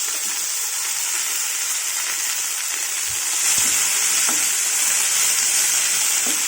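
Mint leaves sizzle and fry steadily in a hot pan for a Telugu mint and sesame chutney, with a constant crackling hiss and a few faint stirring clinks near the end.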